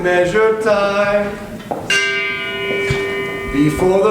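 A church bell tolls, several long ringing strikes with shimmering overtones that hang and decay between hits, loud and close with no voices.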